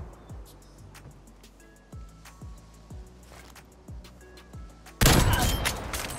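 Single shots from a Cold War-era weapon in a video game, fired one at a time about every second with a heavy low thump, followed by a loud sudden burst of noise near the end.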